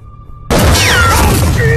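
Firecrackers go off in a film action scene: a sudden loud blast after a low steady tone, then a dense, sustained crackling roar streaked with whistling, falling shrieks that holds at full volume.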